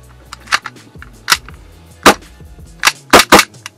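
Metallic clicks and clacks from a WE magazine being pushed into a Raven Dragon 7 Hi-Capa airsoft pistol, several sharp close snaps spaced irregularly with the loudest pair near the end.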